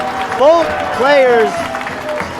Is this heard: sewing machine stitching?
no